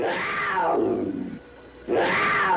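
An animatronic bobcat snarls from the rocks along a 1950s–60s Disneyland Frontierland ride through Balancing Rock Canyon, with two loud, rising and falling growls close by and a short pause between them.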